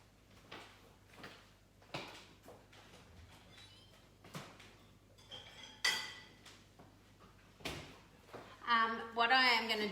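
Kitchen clatter as a bowl and stirrer are fetched while making chocolate mousse: scattered clinks, knocks and a drawer or cupboard sliding, building to a louder rattle at the end, with no talk.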